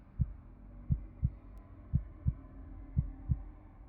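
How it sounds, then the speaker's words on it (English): Looping heartbeat sound effect in a horror ASMR radio setting: seven steady, soft low thuds in a regular pulse over a faint hum, with no talking. "I can just turn the heartbeat on and off."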